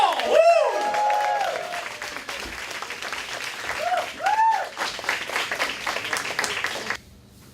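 An audience at a small indoor talk-and-music show claps and cheers to welcome a band onto the stage. The applause is dense and close, with whoops and a few voices calling out, and it drops away abruptly near the end.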